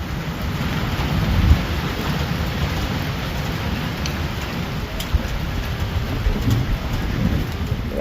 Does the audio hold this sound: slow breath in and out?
no